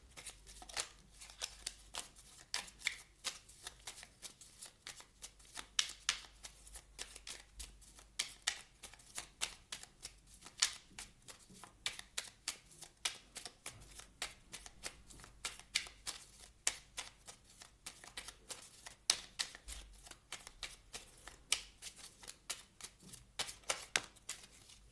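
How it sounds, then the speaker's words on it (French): Oracle cards are shuffled and drawn by hand in a quiet room, making a long run of soft, rapid riffling flicks and taps that stay close and fairly faint, with no talking. "Je vais vous prendre une carte du petit oracle"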